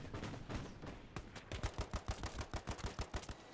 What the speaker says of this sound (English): Machine gunners right there.